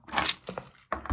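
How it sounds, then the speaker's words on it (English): A set of car keys jangles up close in everyday carry, with two quick bursts of metallic clinking separated by a short pause. "Car keys."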